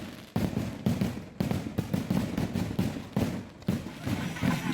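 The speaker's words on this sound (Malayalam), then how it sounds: "ചെറിയ കളർ പൊട്ടലും ഒക്കെ ആയിട്ടുള്ള ചെറിയൊരു വെടിക്കെട്ട് നടന്നുകൊണ്ടിരിക്കുകയാണ്" A small early-morning fireworks display with colour bursts crackles at a temple Pongal festival, sending a continuous run of rapid popping bangs with no talk over it.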